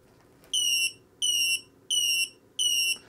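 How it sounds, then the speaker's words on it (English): A Hitec LiPo battery buzzer sounds four sharp, high-pitched electronic beeps in an even rhythm, each lasting about a third of a second, loud and close over a quiet background. "plug the negative into where the round dot indicates negative on the battery buzzer, and you'll hear a tone that's going to register how many cells"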